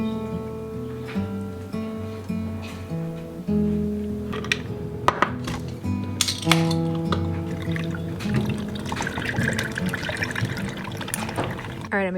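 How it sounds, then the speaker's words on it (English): Iced coffee poured into a glass in a home kitchen, trickling and splashing liquid with ice clinks and clattering, close and clear over about twelve seconds. "poured myself some iced coffee"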